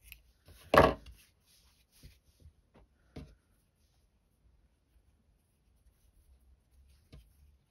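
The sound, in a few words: trimming yarn ends of a knitted headband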